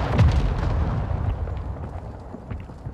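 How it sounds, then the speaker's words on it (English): A mortar strike explodes in Call of Duty: Modern Warfare II, a loud heavy boom at the start that rolls off into a lingering low rumble with scattered distant crackles. "Hostile mortar strike near your position."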